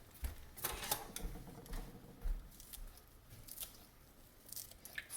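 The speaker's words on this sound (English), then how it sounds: "I'm going to chop a little bit of fresh parsley in." A knife chops fresh parsley on a cutting board in quick, uneven taps and crunches, faint and close, with no voices.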